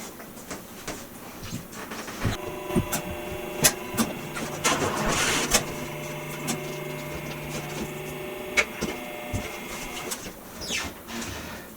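An Epson 9800 large-format printer powering on after cleaning, with whirring motors, steady mechanical tones and a series of clicks and clunks as it initializes, close and without talk.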